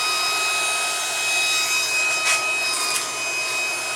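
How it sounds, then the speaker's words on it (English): Cooling fan of a handheld induction heater for freeing seized nuts and bolts, whirring steadily up close with a constant airy hum and a couple of brief rustling bursts. "The fan was sucking that in."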